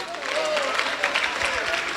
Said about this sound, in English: can you clap for this man that is coming up?